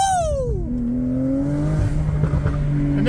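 Turbocharged car engine revving up and settling, its pitch sliding down then holding a steady drone with a rising whine near the end, loud and close.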